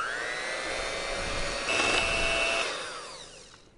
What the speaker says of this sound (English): So I'm just gonna whisk this together.